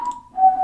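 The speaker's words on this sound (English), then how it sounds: "Who's whistling?" A short two-part whistle, a brief high note followed by a slightly lower held tone, faint and alone.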